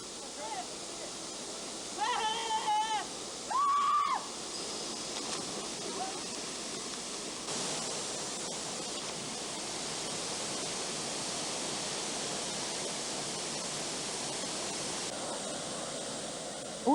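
The Otaki River flowing near the Namekawa Otaki waterfall, a constant rushing hiss of water heard alone, with a couple of brief tonal sounds early on.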